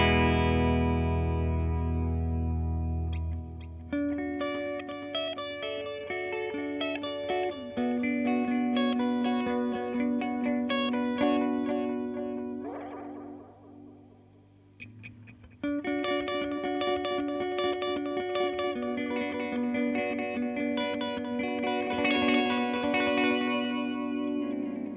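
Electric guitar played through a Dunlop EP101 Echoplex preamp pedal mimicking the EP3 preamp, ringing sustained chords and melodic notes with a slightly driven, warm tone, a brief pause and swell midway, then fuller strumming resumes, no voices.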